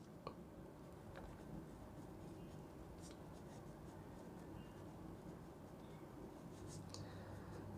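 Marker or pen writing on a board during an accounting lecture, a faint steady scratching under constant room noise, with occasional small clicks and no clear talk.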